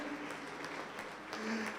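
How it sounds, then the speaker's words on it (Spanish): A crowd at a religious talk on the resurrection of Jesus claps, soft and somewhat distant, with a voice speaking over the applause. "vamos a darle un fuerte aplauso a Jesús."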